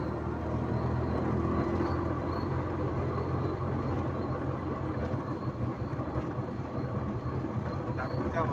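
A local passenger train running, a continuous low rumble and rattle of carriages with a steady broadband roar heard from inside or close by, without clear talking.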